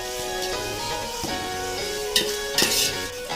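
Mutton pieces sautéing in hot oil with tomato in a pan for mutton biryani, a steady close sizzle under repeated stirring scrapes and a few sharper clinks from the spoon against the pan.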